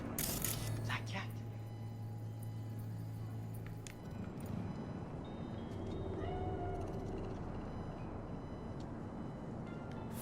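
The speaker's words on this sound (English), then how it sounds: "Do you see it? That cat." A cat meows in Cyberpunk 2077's Night City, its cries rising over a steady game ambience with background chatter and a low hum running throughout.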